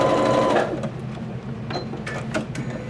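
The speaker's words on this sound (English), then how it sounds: "So here's Terry piecing the blocks." A sewing machine pieces beginner memory quilt blocks with a fast, steady mechanical whir, close up and running briefly with small clicks.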